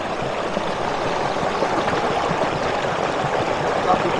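A waterfall and a trickling stream give a steady, soft rushing and splashing wash, close and moderately loud, unchanging across the moment with no clear voices over it.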